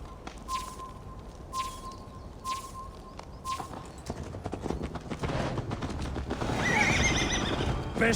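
A horse in the Viking-era game Assassin's Creed Valhalla gives several short neighs over steady hoof clip-clops, then a louder, brighter whinny rises over galloping hooves toward the end.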